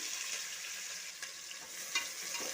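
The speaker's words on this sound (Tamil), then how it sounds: "இப்போ பட்டை மசாலாவை போட்டுருவோம் வெங்காயம் சேர்த்துக்கிறேங்க" Sliced onions frying in oil with cinnamon spice in a pan for biryani, giving a faint, steady sizzling hiss with a few light clicks and pops scattered through it.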